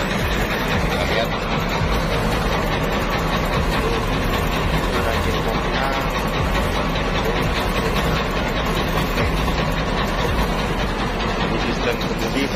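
The engine of a motorized river raft ferry drones steadily below deck, a loud, continuous low rumble with a rattling mechanical texture that never lets up.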